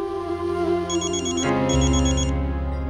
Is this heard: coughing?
no